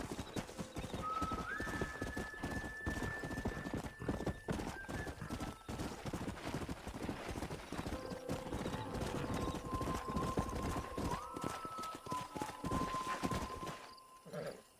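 Horse hooves clip-clop steadily in Red Dead Redemption gameplay, with a brief neigh and faint music tones layered over the rhythmic footfalls, which fade out at the end.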